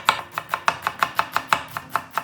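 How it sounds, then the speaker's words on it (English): A knife chops onions finely on a board in a quick, steady rhythm of about a dozen crisp, close taps over two seconds, with no talking. "Start by finely chopping some onions."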